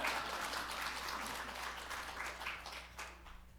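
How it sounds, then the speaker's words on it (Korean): A church congregation claps for a pastor at a Sunday service, a steady, dense wash of applause filling the room throughout. "우리 목사님 인사하실 때 할렐루야로 박수 한번 하죠"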